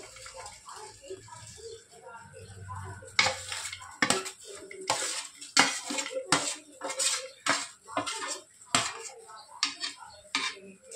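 Okra dropped into a hot wok with tempering and stirred, giving repeated close clanks and scrapes of a ladle against the metal pan with a soft hiss in between, while someone talks over it.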